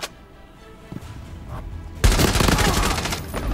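Rapid gunfire in the mobile shooter game Rainbow Six Mobile: a quieter stretch of scattered shots, then a dense, loud burst of sustained firing that continues to the end, with players talking in the background.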